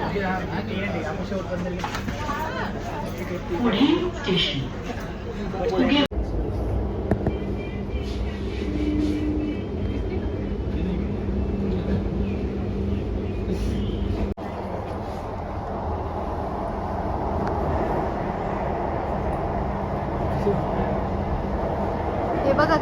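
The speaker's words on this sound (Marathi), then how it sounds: "तर फायनली मी पहिल्यांदा मेट्रोमध्ये आलेली आहे" Inside a moving metro train, a steady low rumble and whine of motion runs throughout, with people talking over it close by.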